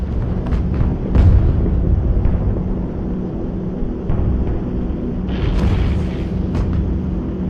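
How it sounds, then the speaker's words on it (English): Heavy flak barrage bursting around a B-17 Flying Fortress bomber, a dense continuous roar of booms and low rumbling with a loud thud near the start, engine drone underneath, no talking. "the enemy knows the path of your approach and walls that path with a flak barrage"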